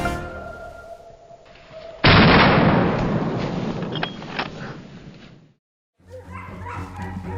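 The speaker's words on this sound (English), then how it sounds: "The sharp barking of the hunting dogs and the shouting of our teammates added to the tension." Hunting dogs on a wild boar hunt in a forest bark and yelp in bursts amid a sudden loud noisy blast that fades out, then more barking close by after a brief silence.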